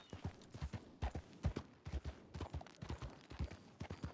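A Turkoman horse's hooves clip-clop in a video game: a quick, steady rhythm of close, crisp hoof strikes repeating throughout, with no talking.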